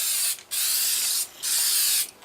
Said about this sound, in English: now we're ready to put the lacquer on